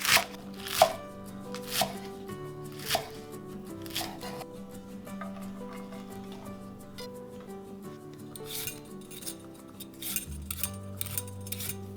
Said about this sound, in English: Cut scallions, cut garlic chives,